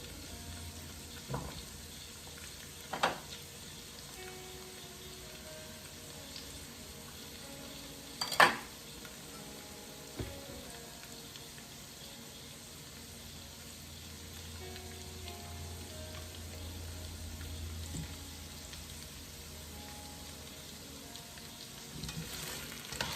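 Pumpkin pieces dropped into a hot frying pan sizzle steadily at low level through the whole stretch, broken by a few sharp clacks and clinks of utensils against the pan.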